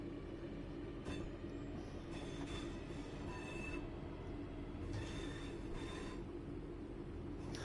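A Manchester Piccadilly to Hadfield commuter train in Train Sim World 3 runs with a steady low rumble and wheel roar, faint clicks and brief higher squeals over rails, with no voices.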